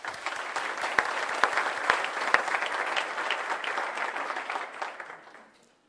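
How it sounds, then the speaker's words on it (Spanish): An audience at a round-table talk on values breaks into steady applause, a dense clatter of clapping that holds for about five seconds before fading out at the end. "Y un fuerte aplauso, por favor."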